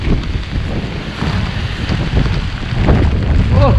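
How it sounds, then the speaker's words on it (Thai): Strong storm wind roaring and buffeting a microphone outdoors during a flooding tropical storm, loud continuous rushing gusts with no talk. "โอ้ยลมพี่น้องเอ้ย"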